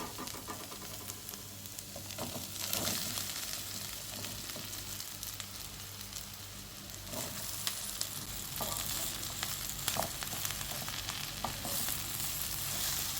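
Soya chunks being stirred into fried onions in a hot pan, a steady sizzle with scraping and stirring clatter running throughout at close range, no voices.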